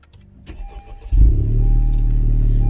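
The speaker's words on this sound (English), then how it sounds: "And then the car will start." Car with a manual transmission starting by push button with the clutch pressed in: a few quiet clicks, then the engine catches with a loud low rumble and settles into a steady idle close by.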